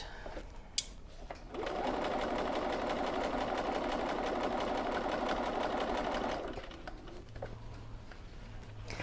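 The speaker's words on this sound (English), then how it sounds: "I'm going to hold my tails and make a few stitches forward and backwards to reinforce, and then we're just going to stitch up that first side." A sewing machine stitches a zippered bag panel, running steadily for about five seconds at a close, even hum before stopping, with faint handling sounds around it.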